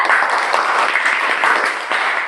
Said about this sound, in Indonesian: Ya, tepuk tangan dong buat Reza.